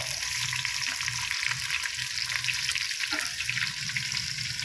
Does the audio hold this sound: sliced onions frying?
yes